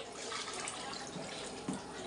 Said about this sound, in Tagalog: Nagdagan ko tubig yan.